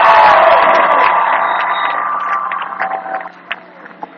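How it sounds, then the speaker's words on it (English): A high school basketball crowd at Seton Boys versus Muncie Burris gives a sustained cheering ovation, loud at first and gradually fading, with a few scattered claps and whoops near the end. "there's the ovation for Desmond Bain."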